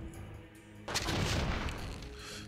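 Weapons fire at enemies in the video game Enclave: a sudden loud burst of shooting breaks in after a quieter moment and rumbles on to the end.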